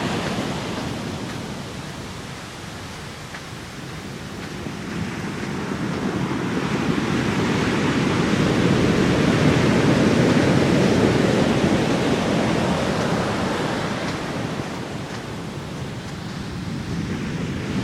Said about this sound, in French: il semble que les séries de grandes vagues, quoi qu'il y en a une là, une belle vague au loin